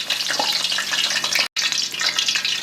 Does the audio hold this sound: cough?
no